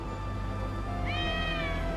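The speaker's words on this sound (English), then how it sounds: "And of course we have the black cat." A black cat in the Black Desert video game gives a single clear meow over a steady hum of game background sound.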